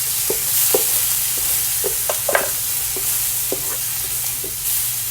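Loud, close sizzling of green and red peppers hitting a hot pan for fried rice, broken by repeated scraping and stirring knocks over a steady crackle, with no talking.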